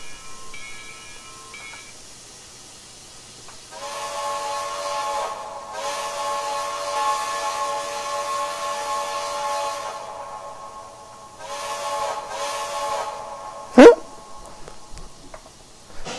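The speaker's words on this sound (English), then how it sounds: "I forget that these have such an entertaining whistle." Steam whistle of a Russian Decapod 2-10-0 locomotive in the Trainz railroad simulator, sounding in several long, steady multi-tone blasts with short gaps between them, loud and clear with no voices.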